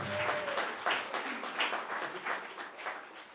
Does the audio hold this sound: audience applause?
yes